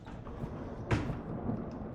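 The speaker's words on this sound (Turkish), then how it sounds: "Baya yıldırımlar düşüyor." A lightning strike's thunder in the game Escape the Backrooms: a single sharp crack near the middle, followed by a low rumble under quiet background noise, moderately faint.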